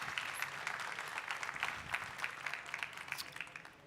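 An audience claps at an Internet of Things conference talk, a faint, distant patter of many hands that runs steadily throughout with no voices over it.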